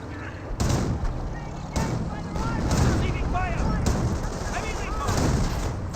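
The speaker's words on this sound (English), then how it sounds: "The AT gun does find a shot there onto the Ostwind." An anti-tank gun fires at an Ostwind in the Company of Heroes video game, sharp heavy shots cutting in repeatedly among ongoing battlefield rumble and gunfire, with a voice speaking over the action.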